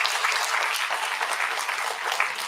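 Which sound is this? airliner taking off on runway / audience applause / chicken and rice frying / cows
audience applause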